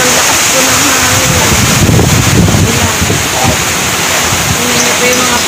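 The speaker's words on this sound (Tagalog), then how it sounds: "Sobrang lakas po ng hangin." Strong typhoon wind rushes outside along a roadside, a loud, steady broadband roar buffeting the microphone, with a gustier surge in the middle and a voice talking over it.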